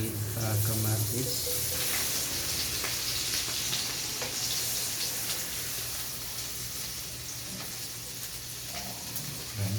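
Egg and tomato frying in a pan for tortang talong, an eggplant omelette, giving a steady close sizzle with light crackle that eases slightly toward the end, with no talking.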